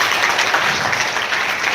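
Dense conference-room applause for a speaker, a steady wash of many hands clapping at fairly close range with no voices over it.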